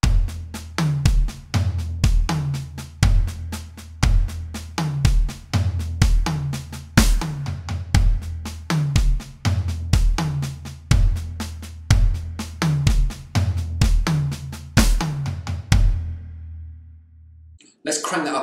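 A drum kit plays a steady groove on the snare, high tom and floor tom with accented fills, the hits punchy and close in an even repeating rhythm, ending in a brief pause before a voice starts.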